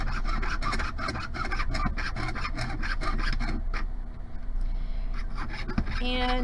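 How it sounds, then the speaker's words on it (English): A jeweller's saw blade, unlubricated, cuts through a sterling silver ring in rapid rhythmic rasping strokes, close and fairly loud, pausing briefly before resuming with a few scrapes. "I did not lubricate my saw blade before I started sawing"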